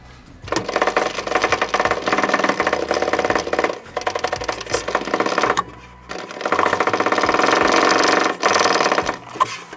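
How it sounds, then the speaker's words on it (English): A pump drawing water from above during a drain install, running loud and steady with a fast mechanical chatter, cutting out briefly twice and starting up again, no talking. "I'm gonna start pumping from above and see if it gets sucked up"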